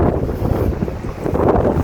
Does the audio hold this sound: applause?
no